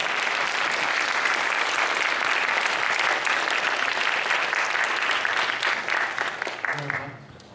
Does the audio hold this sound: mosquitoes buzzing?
no